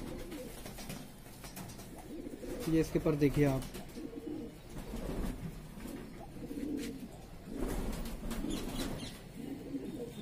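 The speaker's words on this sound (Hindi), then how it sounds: "बहुत अच्छे बदन का कबूतर है ये।" Pigeons coo softly and repeatedly near someone speaking Hindi, with a louder rolling burst of cooing standing out early, all under his continuous talk.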